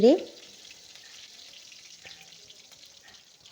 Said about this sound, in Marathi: जिरं मिरचीची पेस्ट, 2 हिरवी मिरच, छान हिरवी मिरची होऊ द्यायची आहेत.